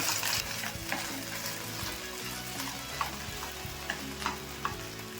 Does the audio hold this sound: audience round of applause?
no